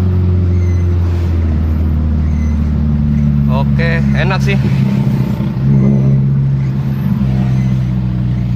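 2014 Toyota Vios with a 1NZ-FE engine fitted with a new racing camshaft idles with a loud, steady low rumble, with brief talk partway through.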